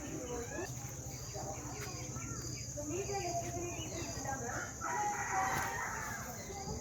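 Chickens at a bird shop on Kanakapura Road, with a rooster crowing and hens clucking amid steady insect-like chirring, a constant busy background with faint voices mixed in.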